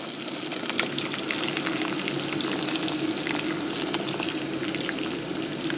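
Chicken pieces sizzle loudly on a barbecue grill, a dense, steady crackle and spit with scattered sharp pops, close and continuous without any talking.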